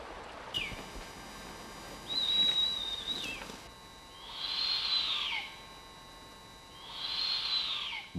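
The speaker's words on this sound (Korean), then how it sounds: "물수리 부엉이. 주로 물고기를 잡아먹는 밤의 지배자다." Blakiston's fish owl calling at night: a thin, high, drawn-out whistling call followed by two longer rising-and-falling calls, evenly spaced and fairly close, over a quiet background.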